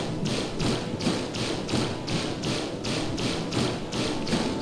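Fiona's condensing ripple attack in Tower of Fantasy, a continuous airborne barrage heard as a steady, evenly spaced series of about a dozen soft thumping pulses, moderately loud, with no talk over it.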